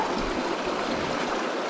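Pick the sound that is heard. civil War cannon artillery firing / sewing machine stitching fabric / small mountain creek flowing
small mountain creek flowing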